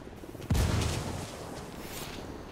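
Frag grenade exploding in Ghost Recon Wildlands, a single heavy boom at about half a second that rolls off into a long fading rumble.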